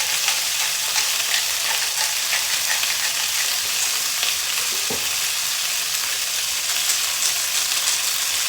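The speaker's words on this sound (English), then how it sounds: "You can hear that meat really sizzling away." Chunks of beef stew meat sizzle steadily in a hot pan, a dense, even frying hiss that runs without pause from start to finish, close and fairly loud, with no one talking.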